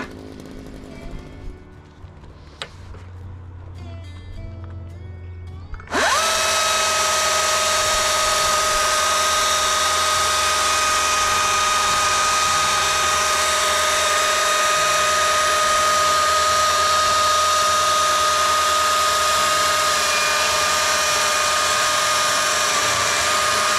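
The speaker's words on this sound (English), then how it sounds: "it's chainsaw time" A chainsaw cuts through a large wooden fence post, starting abruptly after a few seconds of quieter handling and then screaming at a steady, loud, sustained pitch until the end.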